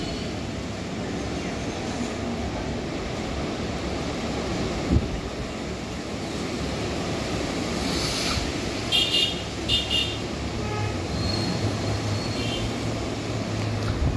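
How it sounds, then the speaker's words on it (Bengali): Rough, storm-churned sea surf at Puri beach after overnight rain, a steady broadband roar of waves breaking continuously, loud and close, with no voices over it. "দেখেছেন সমুদ্রটা কিরকম উত্তাল"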